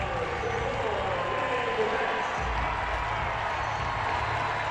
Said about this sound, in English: You hear the applause from the crowd.